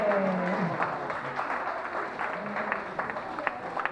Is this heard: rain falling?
no